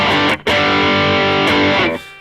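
Heavily distorted electric guitar through a 5150 amp's blue channel into a 4x10 Greenback cabinet, a loud sustained chord that cuts out briefly, rings again, then a second chord fades at the end.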